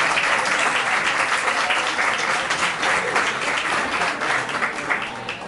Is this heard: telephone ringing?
no